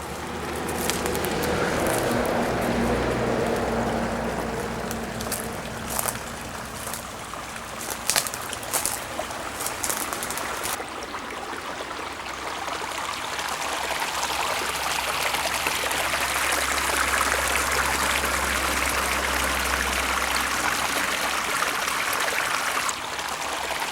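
Flowing river water babbles and rushes steadily nearby, a continuous broadband wash with occasional splashes and rustles, swelling louder toward the end with no talk.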